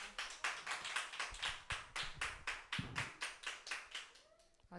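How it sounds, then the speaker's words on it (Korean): Members of a church congregation clap in welcome at a Sunday service, a steady run of about twenty distinct, evenly spaced claps fairly close and moderately loud, tapering off near the end. "우리 유리자매 박수로 환영하겠습니다."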